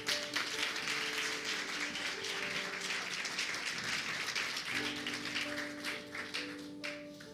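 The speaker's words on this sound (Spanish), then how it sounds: "Dale un aplauso a Jesús" A church congregation applauding during a sermon, with dense, sustained clapping that fills the room and a held musical tone running underneath, tapering off near the end.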